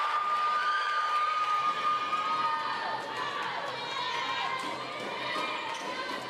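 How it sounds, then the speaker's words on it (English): Crowd noise rises in a gym during a college volleyball match between McLennan Community College and North Central Texas College, a steady wash of voices and cheers with shoe squeaks over it, close and fairly loud. "The crowd hypes it up"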